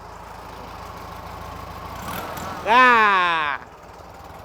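An antique car engine idles with a low, steady rumble, nearly drowned out by someone talking close by. A brief, loud, sweeping tonal sound rises near the end.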